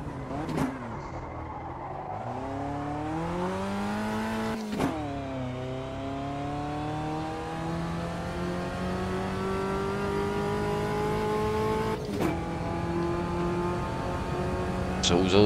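Race car engine in Automobilista 2 on a hotlap, holding a steady high drone with rising and falling pitch through gear changes and a few sharp shift blips, loud and close, with a voice talking at times.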